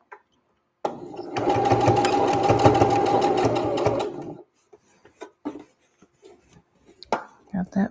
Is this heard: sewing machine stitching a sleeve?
yes